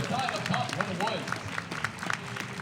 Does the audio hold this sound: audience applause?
yes